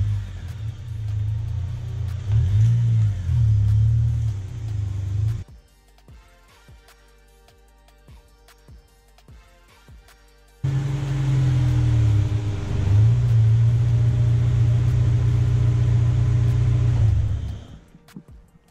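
A Honda S2000's engine rumbles loudly and steadily as the car pulls into a garage, drops to near quiet for several seconds, then resumes just as strongly before cutting off.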